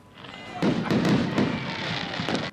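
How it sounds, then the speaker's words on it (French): Fireworks bursting at a New Year celebration in the streets, several sharp booming explosions in quick succession over a dense crowd-like wash of noise. "Des feux d'artifice pour marquer le passage à la nouvelle année"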